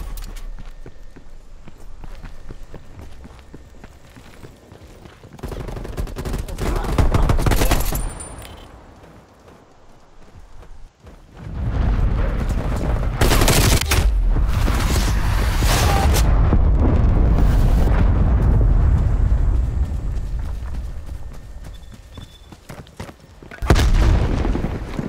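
Flashbang grenade thrown in Black Ops Cold War multiplayer: a loud broadband burst and ringing wash amid gunfire and footsteps, with a second loud blast near the end.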